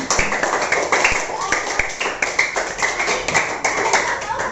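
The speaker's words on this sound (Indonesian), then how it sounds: "Tepuk tangan dulu buat semuanya." Students in a classroom clap their hands in quick, uneven bursts of sharp taps, close and moderately loud, with some voices mixed in.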